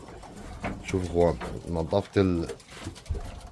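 Pigeons coo in soft, rhythmic bursts close by, mixed with a man's speech.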